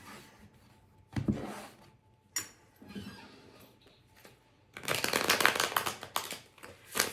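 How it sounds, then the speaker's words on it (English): A deck of tarot cards is shuffled in short bursts of riffling and sliding, with a longer, louder flurry near the end, close and clear in a quiet room. "Of course, I shuffle in who's on the bottom of the deck."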